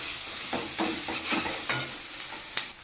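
Green chillies fry in butter in a pan for veg fried rice, with soft sizzling and several distinct stirring scrapes and clinks of a utensil, plus one sharp knock near the end.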